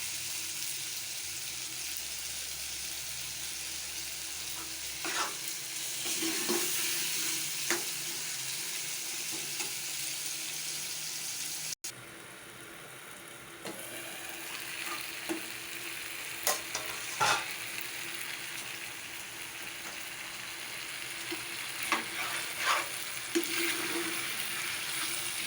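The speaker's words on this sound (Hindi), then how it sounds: "आलू को अच्छी तरह भून लेना है।" Potatoes sizzling in a hot pan while being stirred, a steady frying hiss throughout with scattered scrapes and clinks of the spoon, a short break midway, then sizzling resumes.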